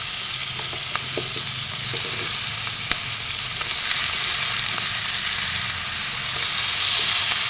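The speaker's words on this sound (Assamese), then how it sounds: "মাংসখিনি মই এনেদৰে তৰতৰ কৰি লৰাই দিলোঁ" Chicken pieces for curry frying and being stirred in a pan: a continuous, close hiss with occasional light scrapes and taps of the spatula, steady and fairly loud throughout.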